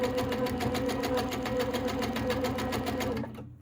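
Sewing machine running fast and steady while free motion quilting a hook feather design, a close, even rapid needle chatter and motor hum that slows and stops at the end.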